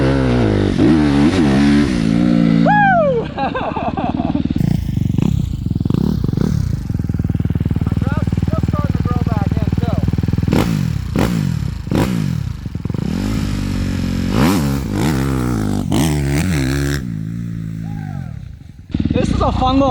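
A fuel-injected Suzuki RMZ250 dirt bike is revved hard repeatedly, with sharp rising and falling engine sweeps and some clatter, loud and close. A person's voice comes in between the revs.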